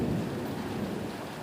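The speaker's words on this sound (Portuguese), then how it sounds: "Eu tô com medo dos trovões aqui." Continuous rumbling thunder rolls under steady heavy rain during an outdoor soccer game in the rain, a dense wash of sound with no speech.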